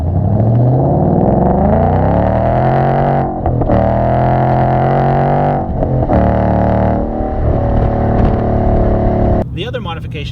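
A modified 2015 Ford Mustang GT engine revs loudly up close with a deep rumbling tone, rising in pitch in repeated pulls separated by brief dips, ending with a sharper crackle.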